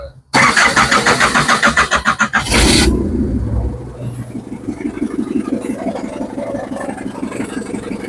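A diesel car engine in Jaffna cranks loudly for about two seconds, catches, then settles into a steady, lower idle through a silencer fitted with a muffler.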